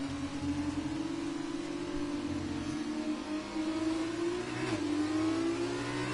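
Formula 2 cars in a racing video game accelerating hard at a restart on the Singapore street circuit, a loud sustained engine whine climbing in pitch, with a brief gear-shift dip near the end and no talking.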